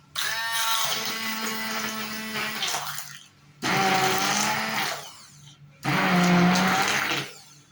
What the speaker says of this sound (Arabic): هضربها بقى في الهاند بلندر